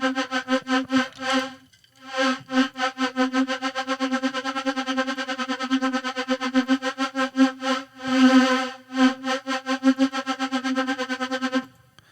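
Synth tone modulated by a Phase Plant LFO, a buzzy harmonic-rich note chopped into rapid rhythmic pulses with shifting speed and brief gaps, loud and alone.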